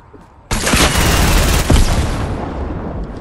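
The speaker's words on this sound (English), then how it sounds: "He's got a rocket launcher." A Fortnite rocket launcher fires with a sudden loud blast, followed by a second heavy boom and a rumbling roar that slowly fades.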